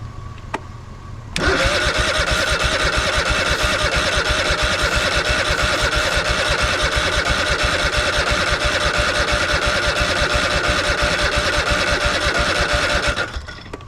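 An old Craftsman lawn mower engine, abandoned and being revived, with the carburetor open, cranks and turns over in a steady rapid chug, loud and close, continuing for about twelve seconds before stopping abruptly.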